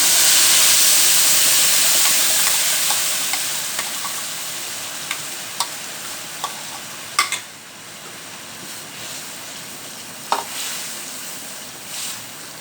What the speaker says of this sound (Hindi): ये हमने ग्रेवी को थोड़ा सा भून लिया।